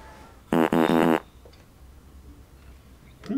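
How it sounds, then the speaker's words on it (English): A loud, buzzy fart sound effect from a comedy clip erupts in two quick, close bursts lasting about half a second, then quiet room noise follows. "Fart always makes you laugh for some reason"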